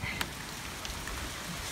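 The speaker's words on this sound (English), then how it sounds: "flipping rain. What's all that about?" Steady rain falls outside a garage as an even, hissing wash with a few sharper drop ticks near the start, and no voices.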